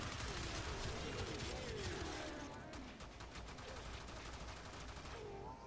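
Enemy gunfire in the Warframe video game, dense rapid bursts and rattling shots aimed at the player, loud and continuous along with faint whistling game effects and no talk.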